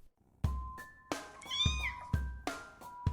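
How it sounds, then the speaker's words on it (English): A cat meows several times in a row, insistent and fairly close, with short pauses between the calls. "repeated meows, your kitty is likely seeking attention"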